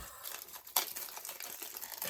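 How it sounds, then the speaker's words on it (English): A soft plastic bag is tugged and peeled off a diamond painting kit package, giving close, quiet crinkling and rustling with one sharper crackle partway through. "let's get this plastic bag off. This is a soft plastic bag, and it doesn't seem to want to come off."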